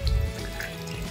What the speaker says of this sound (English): A bit of water on the back panel, on the camera module, on the sides,